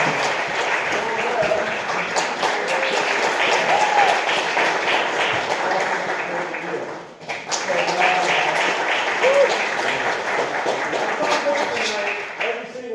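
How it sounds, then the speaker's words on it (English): A concert audience claps for the jazz ensemble's soloists, a steady wash of applause that dips briefly midway and swells again, with some voices mixed in. "So I want to applaud our soloists on that first number."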